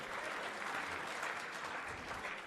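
A darts championship crowd applauds a treble visit, a steady wash of clapping and cheering heard at a distance, fairly faint and continuous for the whole stretch.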